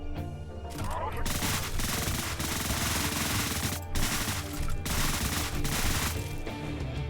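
Video game gunfire in Deadbolt: loud, near-continuous bursts of rapid shots that fill the whole stretch, with a couple of brief breaks between volleys.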